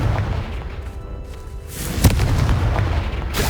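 A Confringo spell detonating in Hogwarts Legacy, a loud, close booming blast with a sharp crack mid-way and a sustained rumbling roar afterward, heard alone without talk.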